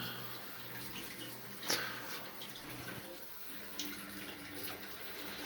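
Water drains from an electric water heater into a bucket as a steady, faint trickling and splashing hiss with a couple of small knocks, continuous and fairly quiet throughout.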